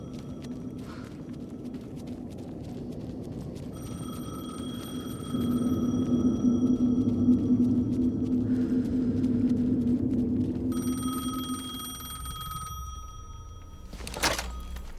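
A telephone rings in the video game Alan Wake 2, a repeated electronic tone that starts and stops in bursts over low rumbling game ambience, with a sharp thud near the end.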